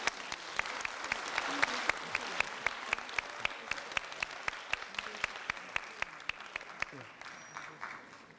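Lecture audience at a special teachers' class on good teaching and professional learning communities applauds steadily for about eight seconds, with a dense wash of clapping and a few sharper individual claps standing out.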